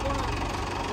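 A tractor engine idles nearby with a low, steady chugging rumble in a brief burst, with voices blending faintly into the sound.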